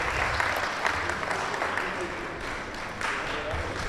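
Audience applause welcoming the speaker's wife at a CILIP event, a steady spatter of clapping mixed with voices and room murmur.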